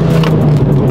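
A sports car engine roars loud and close on a track, with a strong, steady growl from under the cabin during a downshift and full-throttle pull.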